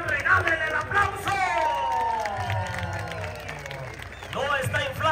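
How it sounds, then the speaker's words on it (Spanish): Audience applause at a Mexican music event, with clapping, cheers and whistling-like voices mixed in. The crowd noise runs loud and steady throughout. "regálenle el aplauso."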